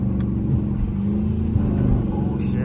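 Dodge Charger R/T engine rumbling steadily while driving through an upscale neighborhood, a continuous low drone with slight swells, recorded close from inside the car.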